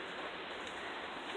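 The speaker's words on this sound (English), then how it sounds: "It's raining!" Steady rain falling outdoors, a dense even hiss of drops that continues without a break for the whole moment, fairly faint and heard alone with no talking.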